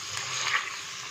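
Potatoes and peas being stirred into masala in a pan, a short soft sizzle with faint scraping, steady and close.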